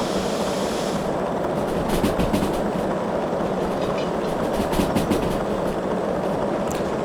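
An S282 steam locomotive and its train in the Derail Valley railway game roll on the rails under the train brake, a steady loud rumble with clattering wheel noise and faint metallic squeal throughout.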